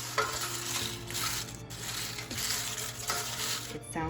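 Oven-baked brussels sprout crisps handled up close, giving a dry, papery crackle and rustle like dried leaves, steady and continuous with bursts of crunching throughout.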